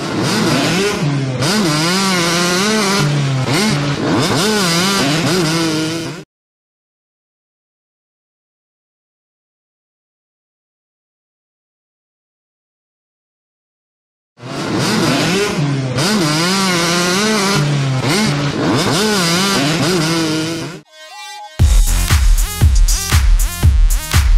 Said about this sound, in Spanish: Pues es una moto de dos tiempos normal